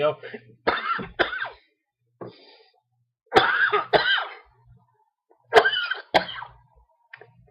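Several harsh, chesty bronchitis-like coughs come in clusters, separated by short quiet gaps, loud and close to the listener.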